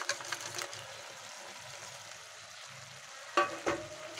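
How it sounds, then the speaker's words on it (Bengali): Fried crab is stirred into cooked Malabar spinach in a pan, a low simmering sizzle broken by scraping spatula strokes and clanks near the start and end. "এবারে দিয়ে এটাকে ভালো করে মিশিয়ে নেব"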